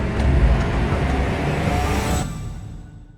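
A car passing close by on a road, a loud steady engine and tyre rumble that holds for a few seconds and then fades away quickly.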